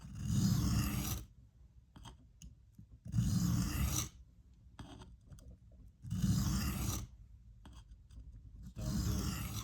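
A knife bevel rasps across a coarse 220-grit diamond sharpening plate in four long, even strokes with short pauses between them, close and fairly quiet, with no talking.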